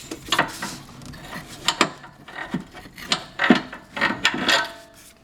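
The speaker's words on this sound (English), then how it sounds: "So now I'll show you how difficult it is to remove the motor mount." Metal tools scrape and clunk while prying out an old motor mount on a 2003 Porsche 996 Turbo, a series of irregular close knocks, rasps and bumps.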